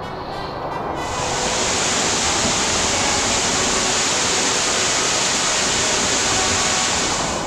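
Waterfall in a rocky canyon on Flores in the Azores, a loud, steady roar of falling water that swells in within the first second and then holds constant and close.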